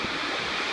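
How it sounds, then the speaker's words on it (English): A waterfall near Little Pete Meadow on the John Muir Trail, heard from a rock overlooking it: steady, broadband rushing water, continuous and fairly close, with no talk over it. "this is just a really nice waterfall that I'm by here"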